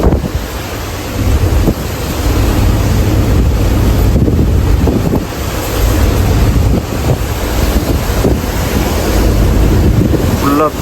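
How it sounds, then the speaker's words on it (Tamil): Rain heard from inside a truck cab on the road at Thoppur during an all-night downpour: a steady, loud, broadband wash of rain and wind roar with a low rumble beneath, continuous throughout. "மழை என்ன போயிட்டுருக்குங்க"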